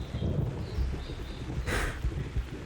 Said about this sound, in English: the fact that the thunder is super, super loud